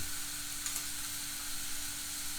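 Tomatoes stir-frying in a pan for northern Thai nam prik ong, a steady close sizzle and hiss with no voices over it.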